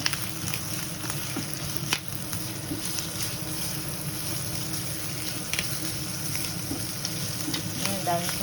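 Liver frying in a pan for lomi sizzles continuously and close up, a steady crackling hiss with faint stirring clinks and no voices.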